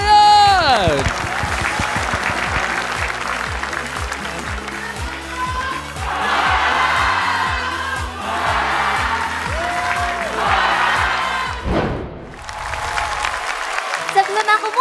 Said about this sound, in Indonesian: Yes, tepuk tangan untuk And Lion.